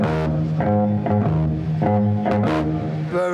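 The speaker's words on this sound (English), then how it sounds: "most bass players sound like this" Electric bass guitar played in a conventional style, a steady run of plucked notes with a full, rounded low tone, close and alone with no talking.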